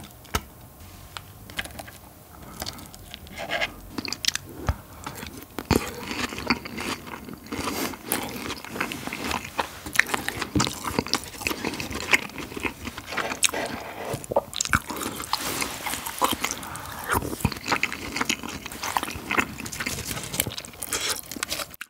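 Someone eats a thick, crunchy pork cutlet with spicy curry close to the microphone, producing steady crisp bites and wet chewing throughout with dense crackling crunches and no talking.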